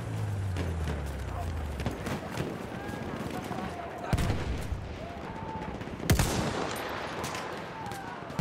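Selbstlader 1906 semi-automatic rifle fire in a World War-era shooter game, with a few sharp shots spaced seconds apart over busy battlefield noise, horses and distant gunfire, and voices calling out amid the fighting.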